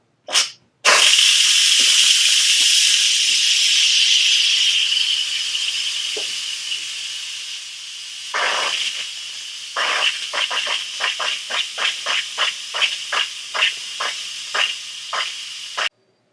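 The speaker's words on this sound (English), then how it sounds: "now we're going to switch it to venting. When you do that, through these little spaces right here, a bunch of steam is going to come out" Steam blasts loudly from an Instant Pot's pressure release vent after it is switched to venting while a pot roast cooks, a long continuous hiss that fades and then breaks into a rapid series of short sputtering bursts.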